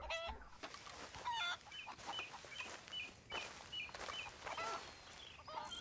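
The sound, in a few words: chickens clucking in video game Red Dead Redemption 2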